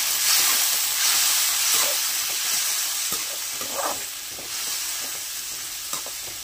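Chopped tomato hits a pan of fried onions for a Telugu raw banana curry, setting off a loud, steady sizzle and hiss with a few soft stirring clicks underneath.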